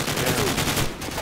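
Rapid bursts of gunfire from the Call of Duty Frontlines video game, dense overlapping shots in a continuous loud volley with no talk over them.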